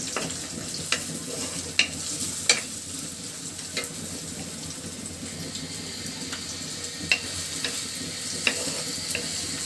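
Whole spices such as bay leaf, cardamom, cinnamon and peppercorns fry with onion in a pan, a soft continuous sizzle broken by several sharp clicks of a stirring spoon against the pan.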